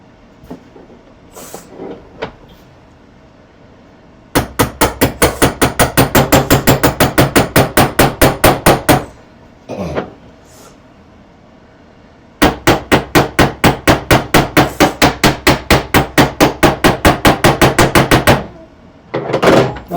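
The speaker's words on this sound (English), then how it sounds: "A real hammer." Parts of a Prusa i3 MK2 3D printer kit are hammered together during assembly. Two long runs of rapid, evenly spaced sharp blows land loud and close, separated by quieter stretches.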